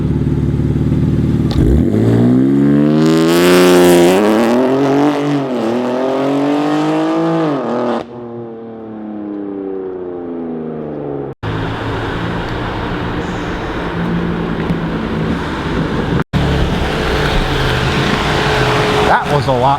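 A BMW X4 M Competition launches from a standstill, its engine screaming up through rising revs with sharp gear-change dips, then the roar of hard acceleration continuing loud and close, broken by brief cuts.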